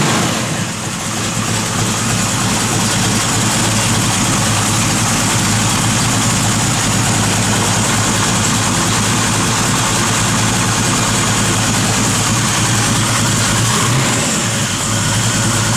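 A 1969 Chevrolet Camaro SS convertible idles with a lopey cam, a loud, close, continuous engine rumble with an uneven loping pulse, running alone with no talk.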